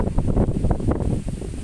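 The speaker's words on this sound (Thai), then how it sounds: "โอ้ยลมพัด มาหนาว" Wind blowing along the bank of the Chao Phraya River, buffeting the microphone in a steady, loud, low rumble with uneven gusts throughout and no talking.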